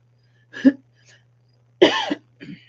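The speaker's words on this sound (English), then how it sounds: "do you ever get it where you're trying to clear your throat, but it's way down here, and when you cough" A single sharp cough, a faint pause, then a harsher throat-clearing cough followed by a softer one, close and otherwise quiet.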